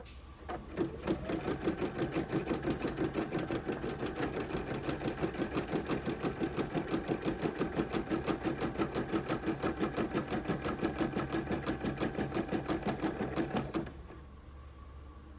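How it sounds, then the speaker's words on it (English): Sewing machine running a continuous rapid stitch for about thirteen seconds, close and steady with a fast even mechanical rhythm, then stopping abruptly. "I think I backed up probably about 40 stitches. Needle is down, and we're going to start again."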